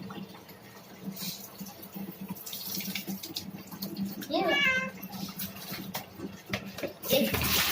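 Water runs and splashes from a tap as it is poured over a cat during its bath, the cat letting out short meows while people talk nearby.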